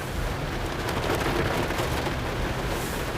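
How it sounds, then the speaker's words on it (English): Steady, dense rain hisses continuously with a low rumbling undertone, close and fairly loud, no voices present. "It's raining"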